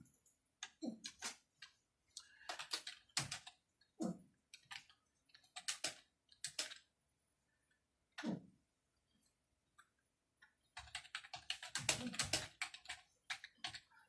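Computer keyboard typing in bursts of quick clicky keystrokes separated by pauses, close and fairly crisp, with one longer flurry near the end and no voices.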